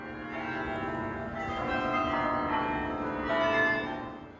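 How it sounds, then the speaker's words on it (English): Large bells in a European bell tower ring together in a rich, sustained peal, their overlapping tones swelling and fading at a moderate distance. "Century after century, its bells rang out the hours."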